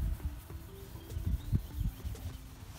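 Soft, irregular hand rubbing strokes scrub polish back and forth on a Toyota headlight, close and quiet, with no voices.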